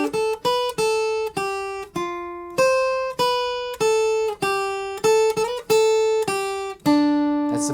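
A melodic lick is played on an instrument as a run of clean, evenly spaced plucked notes, each ringing briefly with a sharp attack, up close and alone with no talk.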